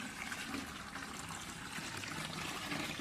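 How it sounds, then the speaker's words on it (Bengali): Water steadily filling a container, a continuous soft rushing and trickling stream heard close and fairly quiet, with no talking over it. "আমনি ধরে রাখবি জল ভরছে"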